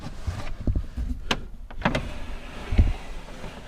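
Electric window motor in a Mk2 Golf door whirring as the glass runs up and down, a few short motor bursts with door clunks, close and fairly quiet.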